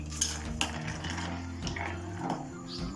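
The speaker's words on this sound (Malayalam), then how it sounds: "വെള്ളം തിളച്ച് നമുക്കരിച്ച് പാസ്ത ഇട്ട് കൊടുക്കാം. എന്നിട്ടൊന്ന് ഇളക്കി കൊടുക്കാം." A spoon scrapes and clinks against a metal pot as pasta is stirred in boiling water, several sharp taps over a low background hum.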